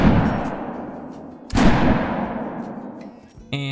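Rifle shots at European rabbits in the hunting game Call of the Wild: two loud, sharp cracks about a second and a half apart, each trailing off in a long echoing outdoor decay.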